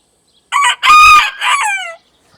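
A fighting rooster belts out a single loud, close crow with a sharp opening note, a long strained middle and a falling tail, then silence.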